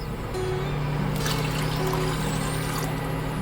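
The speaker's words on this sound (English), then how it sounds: "I am adding water to this." Water poured into a pot on the stove for green moong dal khichdi with brown rice, a steady close trickle and splash running continuously over a low background hum.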